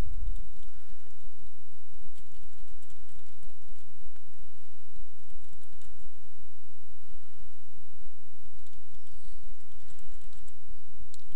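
Continuous key clatter on a computer keyboard while an e-mail message is written, the quick irregular taps running steadily over a low constant hum.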